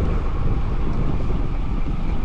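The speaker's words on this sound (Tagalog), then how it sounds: "Kaya mo na yung hangin." Strong wind roars over the microphone during a long outdoor bicycle ride, a loud continuous buffeting rumble with no break.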